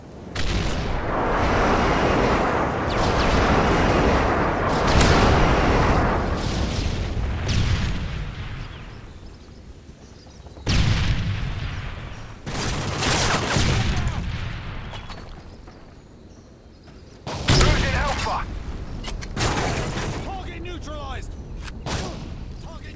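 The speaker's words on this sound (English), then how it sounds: "Friendly airstrike on the way." Repeated heavy explosions from an airstrike in the Modern Warfare 3 video game, loud booming bursts arriving in several separate waves with rumbling tails, mixed with game voices and battlefield noise.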